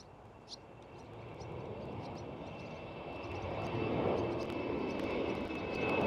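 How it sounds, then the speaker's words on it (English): German Airways Embraer E190 jet departing from runway 18 left at Amsterdam Schiphol, a broad engine roar heard from a distance that swells steadily louder toward the end of the takeoff run. "With the German Airways E190 departing right there on runway 18 left."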